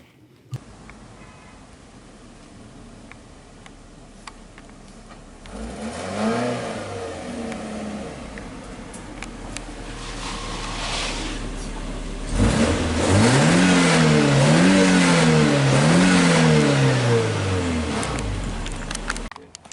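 A 1988 Toyota MR2 engine idles quietly, then revs up loudly as the car drives off, with strong rising and falling engine pitch through repeated throttle blips and gear changes, close and steady throughout.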